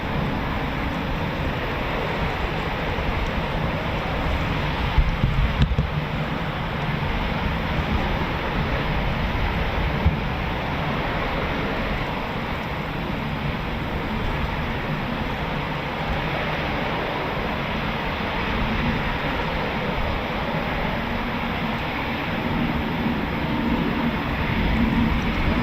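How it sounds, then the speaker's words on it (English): A Eurofighter Typhoon FGR4 jet taxis out for departure at RAF Coningsby, its engines giving a steady, broad, distant roar that holds evenly with no breaks. "Typhoon's on the move, taxiing out for departure"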